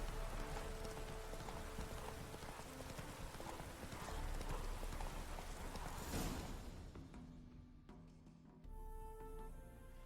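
Roach, Geralt's horse in The Witcher 3, clip-clopping with steady rhythmic hoofbeats under a wash of game ambience, fairly close and continuous, with a brief snort or neigh near the end and no clear talking.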